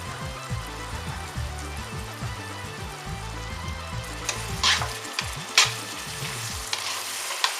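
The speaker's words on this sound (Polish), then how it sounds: "wciszamy ogień, przykrywamy przykrywką i dusimy jakieś 8-10 minut." Radishes braise in a covered pan over lowered heat, giving a soft, steady sizzle and bubbling with a few faint clinks and scrapes, quiet and close.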